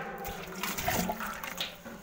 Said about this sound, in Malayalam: ഗൈസ് അപ്പം നമുക്ക് ഇവിടെ വെള്ളം ഒഴിച്ച് കളയാം ഗൈസ്.